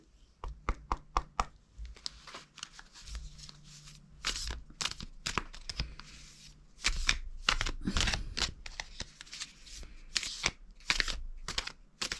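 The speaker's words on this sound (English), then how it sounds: "So I'm just going to get the Labyrinth cards out now." Labyrinth oracle cards being shuffled close by, a rapid series of crisp riffling flicks and soft slaps that comes in uneven bursts, with no one talking.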